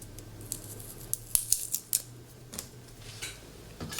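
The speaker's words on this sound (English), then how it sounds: "So basically what I do is I peel the paper off of the garlic." Papery garlic skin is peeled by hand in a kitchen, giving light, close crinkling and several sharp little snaps and crackles scattered over a few seconds, with no talking.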